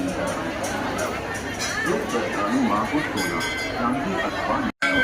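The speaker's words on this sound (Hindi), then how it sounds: "देखो गाइस सुबह कितनी ज़बरदस्त भीड़ है मंदिर में" A morning crowd at a temple, a continuous murmur of many voices nearby with footsteps and faint clinks, broken by a momentary dropout near the end.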